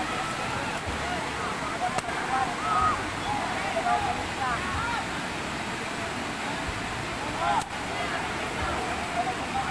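Strong floodwater current of a river rushing in a steady, loud roar with broadband churning throughout, with a couple of sharp knocks along the way.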